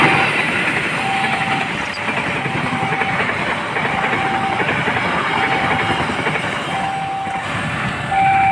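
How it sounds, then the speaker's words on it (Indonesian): Fajar Utama Yogyakarta passenger train runs straight through Tanjung station without stopping, giving a loud, steady close-up roar of wheels and carriages that holds for several seconds. No voices. "Fajar Utama Yogyakarta sudah melintas, dan itu sudah melintas langsung stasiun Tanjung."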